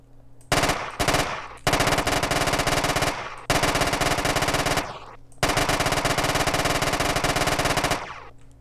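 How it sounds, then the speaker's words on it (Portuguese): Loud, rapid 9mm pistol gunfire from a modded GTA San Andreas in long sustained bursts with brief gaps, close and echoing slightly. "Agora o tiro de uma 9."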